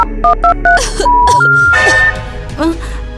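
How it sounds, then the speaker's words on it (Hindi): Mobile phone dialing a call, a quick run of short electronic key beeps followed by sustained tones, close and clear, with a voice speaking over part of it. "मैं निक्की को कॉल करती हूँ।"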